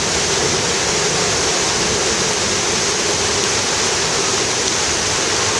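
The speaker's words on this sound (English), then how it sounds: "Hear that? That's the waterfall." La Fortuna waterfall roars as a dense, constant wash of falling water, loud and steady throughout with no other sounds standing out.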